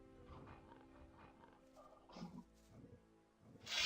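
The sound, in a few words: two wolves growling in Gothic 2 video game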